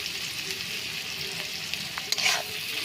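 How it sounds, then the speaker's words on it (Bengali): Sliced onions fry and are stirred in a pan with salt and turmeric while chowmein is prepared, a steady close sizzle with scraping stirs and a sharper clatter near the end. "ভালো করে একটু পেঁয়াজটা ভাজা হয়ে যাবে"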